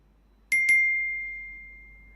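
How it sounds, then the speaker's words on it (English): An electronic time-up reminder chime at a conference workshop rings two quick bright dings, then leaves one clear tone that fades slowly over nearly two seconds in a quiet room. "please do not be surprised when you hear this chime"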